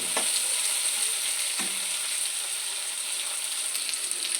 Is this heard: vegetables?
yes